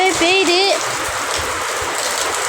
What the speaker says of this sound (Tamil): மழை கொஞ்சம் ஓவராகவே பெய்யுது